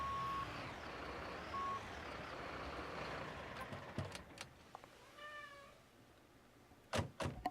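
An emergency vehicle in the Notruf 112 game sounds a string of steady reversing beeps, moderately loud, alongside engine rumble, a few thumps and brief higher chirps toward the end.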